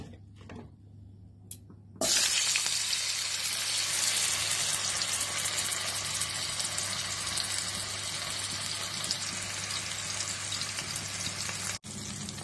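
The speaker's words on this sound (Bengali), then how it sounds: "এবার আলুটাকে ভেজে নেব" Potatoes frying in oil for a cabbage and koi fish dish burst into a loud, close sizzle after a quiet start, then crackle steadily with a brief break near the end.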